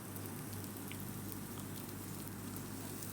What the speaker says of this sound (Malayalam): ഇപ്പോൾ ഏകദേശം നമ്മുടെ ചെമ്മീൻ ഇവിടെ ഫ്രൈ ആയിട്ട് വരുന്നുണ്ട്.